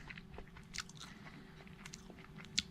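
Chewing on jelly babies sweets, soft wet munching close to the mouth with a few sharper bites and one louder crunch near the end, no talk.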